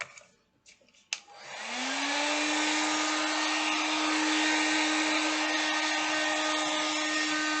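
A hair dryer drying a mandala painting opens with a few soft clicks, then starts up and runs as a steady, loud whir that holds its pitch to the end.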